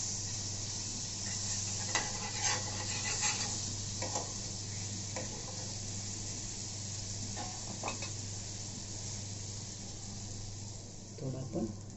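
Butter sizzles steadily in a pan while the stuffing for cauliflower paratha is made, a continuous close frying hiss with occasional light stirring and clinks against the pan.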